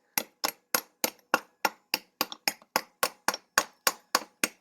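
Sharp metallic strikes beat on a moped's aluminum rim to knock the tire loose, about fifteen evenly spaced loud clanks ringing briefly, close and alone with no talking.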